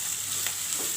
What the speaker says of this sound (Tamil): வெங்காயம் ஓரளவுக்கு வதங்கிருச்சு